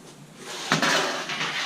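Plates clatter with a brief clink as they are set down beside a wood-fired oven, followed by softer knocks in a quiet room.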